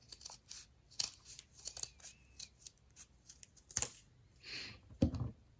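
Scissors cutting a curve through folded paper for a cherry blossom craft: a quiet series of short, crisp snips and rustles at close range, with no talking.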